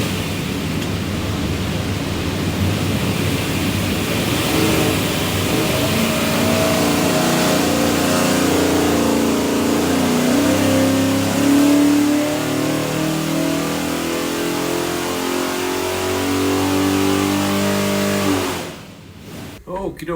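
Shelby all-aluminum 482ci Ford FE V8 for a 1967 Mustang, fitted with a Moroso front-sump oil pan, revs hard and continuously on a dyno. The roar is loud and close, holds for about 18 seconds, then cuts off abruptly.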